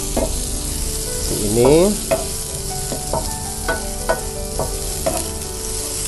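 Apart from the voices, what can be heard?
ginger, galangal and turmeric sautéing in a pan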